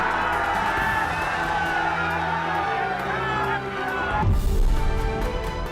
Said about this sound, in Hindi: उत्तर 24 परगना की सभा में भारी भीड़